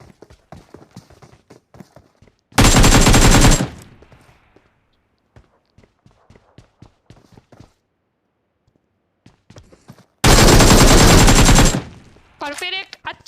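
Two long bursts of rapid automatic gunfire ring out loud and close in a battle royale video game, each roughly a second, separated by quieter footsteps and clicking.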